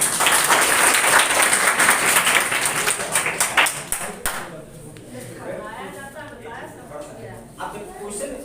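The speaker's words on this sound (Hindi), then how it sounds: "जोरदार तालियां।" Loud audience applause at a career guidance event, dense clapping that peaks over the first few seconds and then thins out to scattered claps and crowd murmur.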